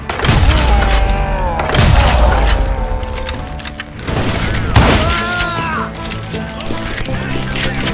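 Rapid bursts of gunfire from hired guns in the western shooter Call of Juarez Gunslinger, loud and close, with booming impacts and crashes layered over continuous game action.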